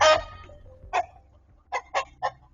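A rooster gives one loud squawk, then a few short, separate clucks close by, with brief silences between them.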